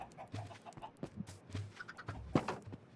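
Chickens in the Minecraft video game cluck in short bursts, several scattered calls over a few seconds, faint and close in a quiet game scene with no talking.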